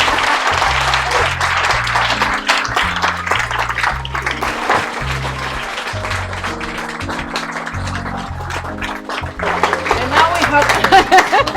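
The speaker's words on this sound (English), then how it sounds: "can we have one more round of applause for Claudia C. Castillo?" Audience applause at a book presentation, sustained clapping from a seated crowd for the full stretch, with background music or tones running underneath and swelling again near the end.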